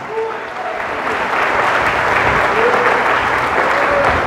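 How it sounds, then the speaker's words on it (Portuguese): A church congregation applauding Jesus during a sermon, loud sustained clapping from a large crowd that swells slightly and holds steady throughout. "aplauda Jesus agora."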